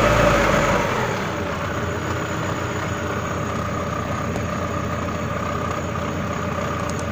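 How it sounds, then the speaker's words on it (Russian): A Daewoo Lanos 1.6 petrol engine idles steadily after starting, a continuous low hum and rumble that settles from a slightly louder opening into an even drone, heard close. "сейчас заведем двигатель"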